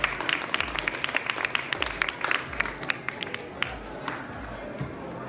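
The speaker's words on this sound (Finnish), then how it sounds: "Annetaan vielä aplodit Mariannelle" An audience at a trade fair applauds a speaker with a steady run of hand claps that stays fairly even for a few seconds, set against the hum of a busy hall.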